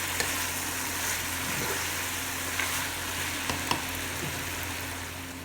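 Okra masala (bhindi) frying in a pan and being stirred, a steady broadband sizzle with scattered scrapes of the spoon and a few sharper clicks, fairly close and with no talk.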